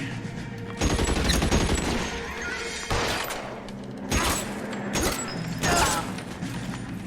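Heavy gunfire in a firefight from the video game L.A. Noire, with several loud, sharp volleys of shots and bursts arriving in clusters over a constant noisy backdrop.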